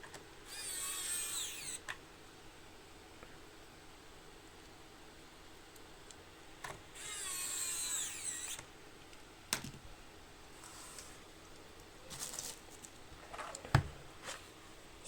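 Small bolts are screwed into the backplate of a Dark Project KD87A keyboard with Gateron Brown optical switches, heard as two longer bursts of whirring separated by quieter spells, then scattered clicks and taps, close and without talk.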